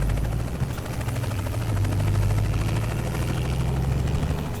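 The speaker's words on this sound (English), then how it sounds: "this helicopter's getting close" Helicopter in American Truck Simulator drawing closer, a steady loud rotor thump and engine drone with a low hum that strengthens midway, no talk over it.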